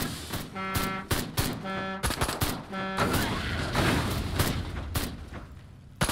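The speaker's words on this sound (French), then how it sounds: "Pourquoi il tire sur l'engin?" Gunfire in Destroy All Humans!, sharp repeated shots and bursts aimed at a craft, mixed with droning tones and engine noise, loud and continuous over several seconds.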